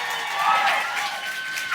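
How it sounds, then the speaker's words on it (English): A live audience in New York applauds and cheers, a dense wash of clapping with a few whoops, steady and close for a brief moment. "give yourselves a round of applause for coming out"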